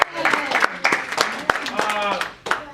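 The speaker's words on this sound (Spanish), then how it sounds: "aplauso al Señor" A church congregation at a Spanish-language worship service claps in a short burst. Uneven, scattered claps sit under a speaking voice.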